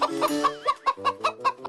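Farm hens clucking close by in a rapid, rhythmic series of short, loud calls, with no voices present.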